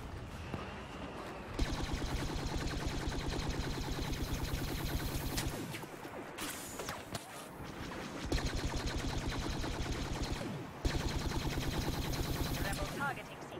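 Light machine gun in Star Wars Battlefront blasting in long rapid sustained bursts, separated by short pauses, with fainter battle noise underneath.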